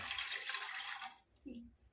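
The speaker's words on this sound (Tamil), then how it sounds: "அதே கப்பால் நம்ம தண்ணி ஊற்றிக்கணும்" Water pours from a cup into a pan for vermicelli kesari, a brief splashing gush that stops after about a second, followed by a faint low sound from the pan.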